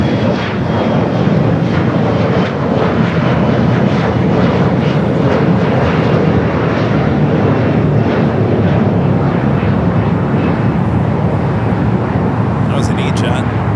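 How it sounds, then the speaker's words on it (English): An Embraer E-Jet airliner at LAX roars steadily and loudly throughout, a broad continuous engine rumble, with radio talk faintly audible under it. "That was an E-Jet."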